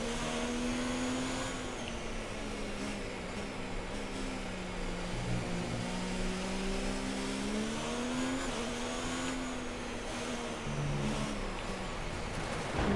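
An F1 race car in the game F1 2019 drones steadily, its engine pitch rising and falling through gear changes as it runs at speed, with faint tire noise and no talk.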